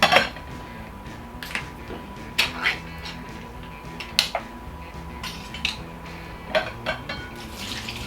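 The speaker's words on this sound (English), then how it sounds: "drain it into my colander." Canned jackfruit chunks are drained into a colander in a kitchen, with a soft running trickle of liquid punctuated by several sharp metallic clinks and knocks at irregular intervals.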